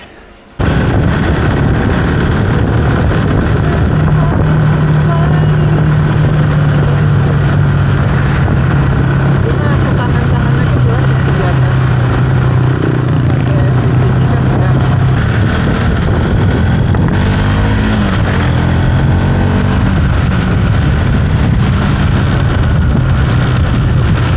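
A motorcycle ride recorded on an Insta360 Ace action camera in overcast, drizzly weather carries a constant loud roar of wind and engine with a steady low drone and no talking.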